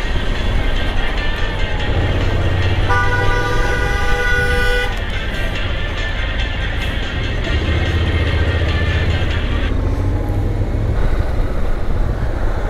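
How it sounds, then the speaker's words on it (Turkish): A car horn toots in a long, loud blast inside the Eurasia Tunnel, heard from a motorcycle over heavy, constant engine and road roar, with a second horn sounding later. "Neyin kornası? Neyin kornası?"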